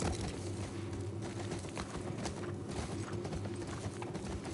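Horse hooves clip-clop at a steady walking rhythm in The Last of Us Part 1 video game, continuous and prominent, layered over a dense, loud game soundscape.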